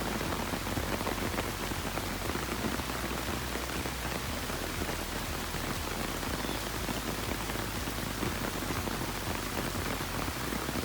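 Steady rain falls continuously, a dense even patter on surfaces with no pauses and no voices.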